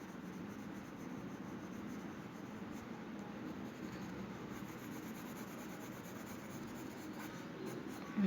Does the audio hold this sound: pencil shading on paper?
yes